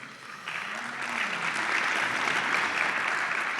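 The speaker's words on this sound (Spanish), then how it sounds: "quiero darle un fuerte aplauso también al doctor Alejandro Melo Florian." Sustained audience applause for a doctor introduced at a medical lecture in Colombia, building over the first second and holding steady as a dense, even wash of clapping from a sizable room.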